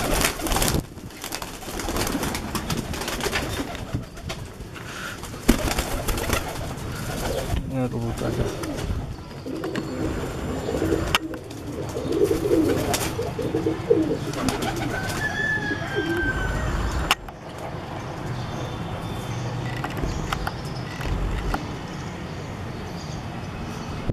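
Pigeons cooing amid handling noises and bumps, a few soft coos standing out between clattering sounds, with people talking in the background.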